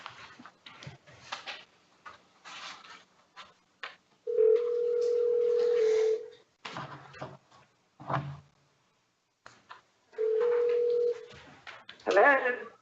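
Telephone call-in at a commission meeting: scattered talk and noises, then two long steady dial or ring tones, each about two seconds, with brief keypad-like blips and a voice answering at the end.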